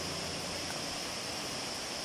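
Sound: Pa Wai waterfall, red-coloured water flowing down

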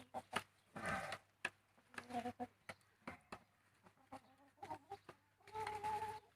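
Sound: chickens clucking

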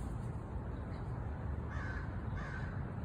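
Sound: crow cawing

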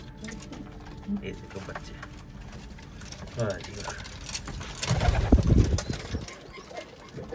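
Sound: crested pigeons cooing and flapping in a loft

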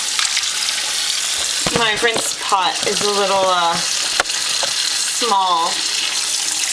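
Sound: water running at sink, rinsing dyed wool yarn

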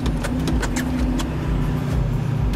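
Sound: Duramax diesel engine revving with accelerator floored

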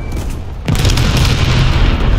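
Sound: bomb explosion in the video game War Thunder

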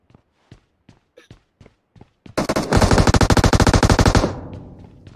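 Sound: gunfire in the video game PUBG

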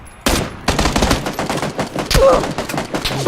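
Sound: gunfire in the video game PUBG Battlegrounds

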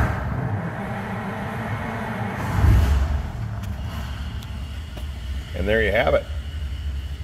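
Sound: 1940 Ford Deluxe flathead engine starting and idling

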